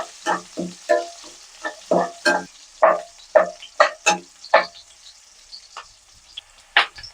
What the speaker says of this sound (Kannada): ಈರುಳ್ಳಿ ಕಲರ್ ಚೇಂಜ್ ಆಗೋವರೆಗೂ ಫ್ರೈ ಮಾಡ್ಕೋಬೇಕು.